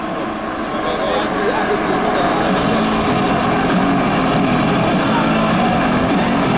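A Coast Guard helicopter hovers about 15 metres up at the 2019 Jesolo air show, its rotor and engine making a loud, steady, continuous roar throughout, with a voice faintly talking over it.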